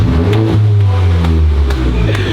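A modified race car engine idling and blipping nearby, a deep rumbling burble with a few sharp throttle pulses standing out over the low drone.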